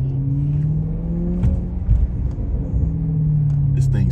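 Maserati Quattroporte GTS engine rumbling steadily while cruising, a low continuous drone that rises slightly near the end, with people talking over it inside the car.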